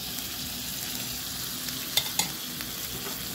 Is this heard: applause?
no